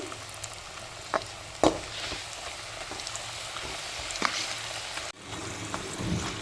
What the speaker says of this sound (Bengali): এগুলো ভেজে নেব ভালো করে আমি এগুলো ভেজে নিচ্ছি একদম মরমরে করে ভেজে নেব